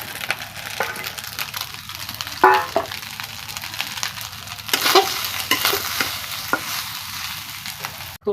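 Onions and chilies fry in a pan over a village cooking fire, a steady sizzle broken by scraping, clattering stirs and a couple of louder bursts of crackle, with no voices.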